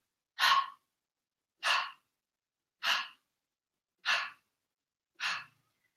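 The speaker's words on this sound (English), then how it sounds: "you can also try panting through the mouth" Five sharp, evenly spaced mouth exhalations in Kundalini yoga panting breath, each a short breathy burst about a second apart, close and clear with silence between.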